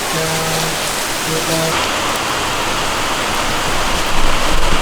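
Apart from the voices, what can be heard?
heavy rain falling outside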